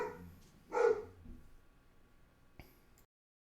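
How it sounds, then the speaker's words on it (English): A dog gives a single short bark at close range, followed by a quieter faint yelp, with soft background noise and no talk. "Yeah, the dog doesn't like glowfish either,"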